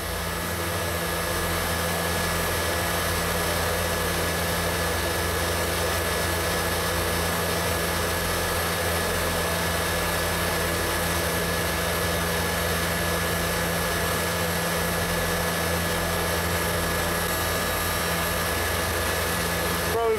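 An exhaust fan runs in a welding area as a loud, steady, unbroken roar with a constant hum and no pauses throughout.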